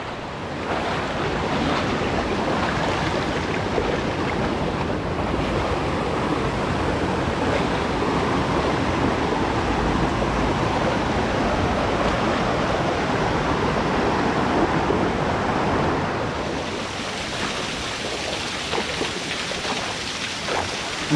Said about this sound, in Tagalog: Ang daming falls dito